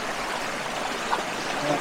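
Steady broadband rush of running water from a small waterfall and stream in the Lake District, UK, continuous and moderately loud with no other distinct sounds.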